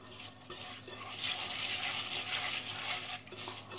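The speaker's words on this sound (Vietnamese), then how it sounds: "Đây là 200 g nếp, 100 g đậu xanh đó. Mình ngâm ra. Rồi mình trộn lên nè." Soaked sticky rice and mung beans, 200 g of rice to 100 g of beans, are stirred and tossed together in a bowl. The mixing gives a soft, continuous, grainy rustle with small clinks, close and fairly quiet.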